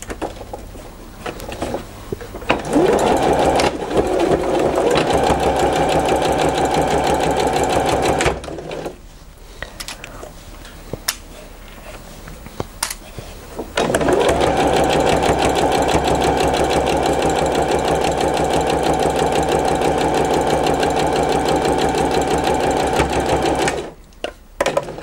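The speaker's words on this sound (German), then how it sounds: "jetzt ganz langsam Viertel-Inch nähen" Sewing machine stitching a quarter-inch seam on a patchwork schoolhouse block, a steady close motor whir with rhythmic needle patter, running in two long bursts separated by a quieter pause.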